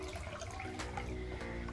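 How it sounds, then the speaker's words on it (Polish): Lukewarm water pours into a bowl in a continuous, quiet splashing rush with a faint gurgle, alone with no talk. "W tym celu wlewam sobie letnią wodę."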